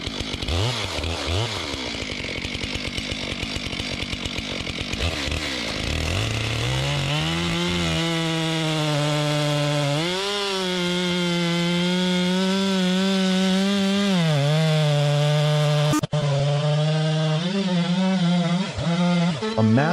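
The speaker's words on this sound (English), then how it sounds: "The chainsaw is fired up, its roar echoing like the beginning of a new battle." Chainsaw revving up and cutting through a large timber log in a timber yard, a loud, sustained roar with the engine pitch rising and dipping as the chain bites into the wood, heard alone without speech.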